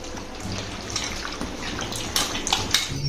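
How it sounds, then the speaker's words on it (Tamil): Raw chicken being washed by hand in water with turmeric, splashing and sloshing in a vessel with occasional clinks of the pot, close and fairly loud. "மஞ்சள் போட்டு நல்லா வாஷ் பண்ணிக்கலாம்."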